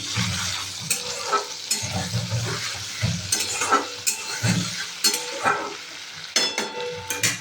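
Hilsa fish fat fries in a pan of oil, giving a bright crackling sizzle broken by repeated scraping and stirring bursts, close and without talk.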